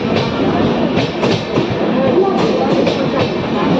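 Udyaan Express train pulling into Lonavala station, a steady rumbling roar of rolling wagons with faint rhythmic clatter, close by and continuous throughout.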